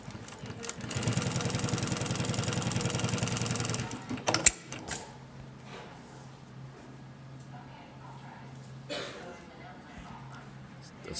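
A Juki LU1510N industrial sewing machine runs in a loud, steady burst of stitching for about three seconds, then stops, leaving a low motor hum with faint handling noises.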